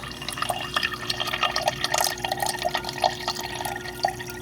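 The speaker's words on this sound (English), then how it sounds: "This is all the water output we get, and really slow." Water trickling slowly from a GE refrigerator's dispenser, a thin uneven stream with irregular drips and splashes, close and fairly quiet, with a steady faint hum beneath.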